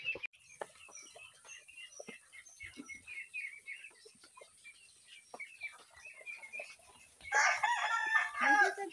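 Chickens being let out on a rooftop cluck and crow nearby in quick, busy bursts, growing louder and more crowded toward the end.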